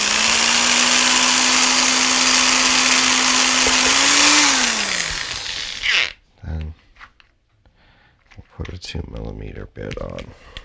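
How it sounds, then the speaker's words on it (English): An electric drill with a 1mm bit whirs steadily at close range for about five seconds drilling a pilot hole in a model aircraft, then spins down, followed by clicks and handling noises. "I'm going to drill a pilot hole with the 1mm bit first."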